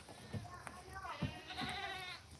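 Goats on a farm bleat in a few short calls during morning chores, with people talking over and between them nearby.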